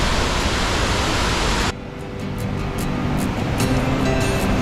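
A waterfall in Yosemite National Park roars as loud, dense, continuous rushing water up close, then drops to a somewhat quieter steady roar partway through, with no talking.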